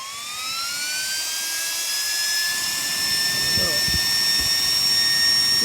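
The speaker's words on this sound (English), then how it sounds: "12-volt fan," A small 12-volt fan powered from a LiPo balance plug whirs with a steady high-pitched whine that climbs slightly as it spins up, close by, with brief low voice sounds partway through.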